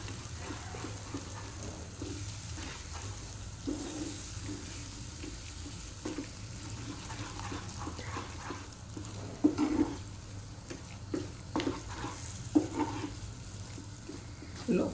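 Ragi flour dough being stirred firmly in a hot pan over a low flame, soft scraping and stirring with a faint continuous sizzle and a few louder knocks of the spoon, heard up close with no talking.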